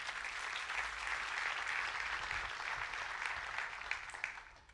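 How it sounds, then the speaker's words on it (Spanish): A church congregation bursts into sustained, steady applause that fills the room evenly for several seconds, a dense wash of many hands clapping with no voices standing out. "Denle un fuerte aplauso a Dios por eso"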